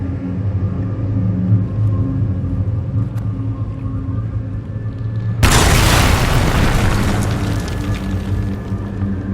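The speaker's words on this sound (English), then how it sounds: "This weapon of theirs cut through the barrier, but was destroyed in the effort." A sudden loud booming blast in Dragon Age Inquisition as a weapon cuts through a barrier, erupting over a steady low hum of background ambience and leaving a long roaring, crackling rumble behind it.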